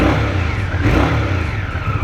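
An Indian Scout 1133cc motorcycle with twin exhaust pipes revs loud and close, giving a punchy, throaty engine roar that rises and falls slightly over two seconds.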